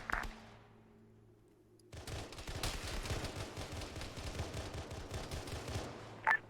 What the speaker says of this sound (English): This is Alpha, shots north